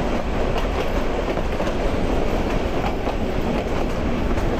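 The Hawr Express train runs on rails at night: a loud, continuous rumble and rattle of carriages with faint rhythmic wheel clacks throughout and no talk.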